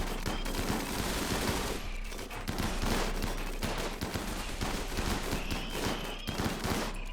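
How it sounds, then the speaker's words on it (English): Turrets in the Rimworld colony sim open fire on raiders in a grasslands cowboy settlement, a dense, continuous volley of overlapping gunshots and rapid machine-gun bursts sustained throughout at steady loudness. "And the other turrets are starting to open up"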